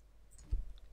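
A single faint, short click of a computer mouse while logging into a router's web setup page, alone in a quiet room.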